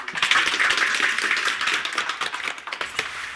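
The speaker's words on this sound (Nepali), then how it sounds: "सबैले एकमुष्ट धन्यवादसहित ताली बजाएर" An audience at a political campaign meeting claps together in thanks, a brisk close burst of many hands that gradually thins toward the end, with no talking.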